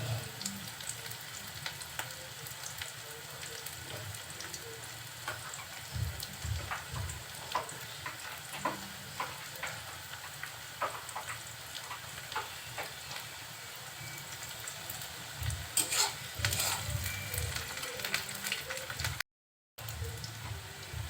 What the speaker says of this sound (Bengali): হালকা একটু নাড়াচাড়া করে পেঁয়াজটা নরম হওয়ার জন্য অপেক্ষা করব।